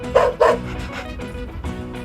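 Two quick, bright toy-like dog barks from a LeapFrog Learning Friends 100 Words toy book at the start, followed by softer electronic yips and whimpers, all close and fairly loud.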